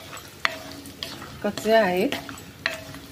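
Half a cup of raw peanuts fry in hot oil for Maharashtrian poha chivda. A soft sizzle runs under brief spoon clinks and stirring scrapes while someone speaks briefly.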